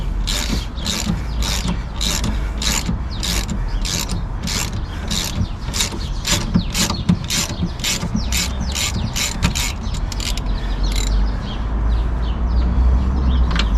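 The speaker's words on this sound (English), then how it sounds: "The ratchet will come out." A hand ratchet clicks rapidly and evenly, close and loud, during wheel bearing work on a Volkswagen Golf Mk5, with the fast rhythmic pawl clatter running steadily throughout.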